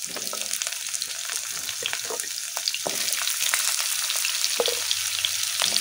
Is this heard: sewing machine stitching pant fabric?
no